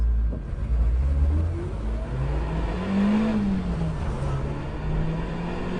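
A Carver One tilting three-wheeler accelerates on a twisty road, its engine tone rising and falling in pitch as it pulls through the gears, heard alone without talk.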